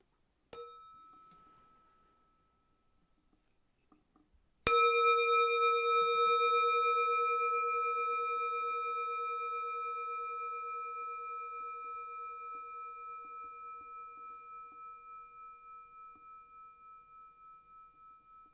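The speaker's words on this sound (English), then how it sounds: "Listen to this bell as it decays into silence." A bell is struck twice, the second strike ringing out clear and sustained, slowly fading with a gentle pulsing shimmer toward silence.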